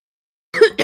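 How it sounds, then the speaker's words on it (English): A single lingering cough from a person recovering from a sickness bug, a short close burst followed by a second smaller cough, after a moment of silence. "we still have this lingering cough from whatever we had"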